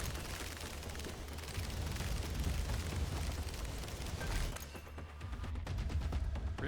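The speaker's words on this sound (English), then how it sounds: "that's what happens in the late game with the explosion on every projectile" The hammer weapon in the video game Conquest Dark fires projectiles that each explode, producing a dense, continuous barrage of crackling blasts. The blasts roar on with only a brief dip, loud and unbroken, with no speech.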